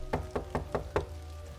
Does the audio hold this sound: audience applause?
no